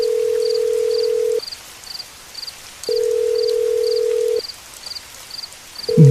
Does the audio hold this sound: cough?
no